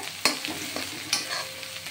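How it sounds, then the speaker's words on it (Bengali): Onion and coconut fry with panch phoron in a pan, a soft sizzle running underneath as a spatula scrapes and stirs in a couple of sharp knocks and shuffles, close by and with no talking. "দেখুন পেঁয়াজ আর নারকেলটা পাঁচফোড়নের সাথে ভেজে দিচ্ছি"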